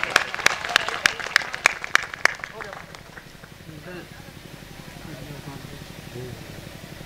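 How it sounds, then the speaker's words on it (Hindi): Sharp, loud clapping bursts from a crowd at a political rally in Uttar Pradesh, welcoming a newly named district party president, fading after a few seconds into murmuring voices and background chatter. "जोरदार ताली बजा करके प्रधान जी का स्वागत करिए"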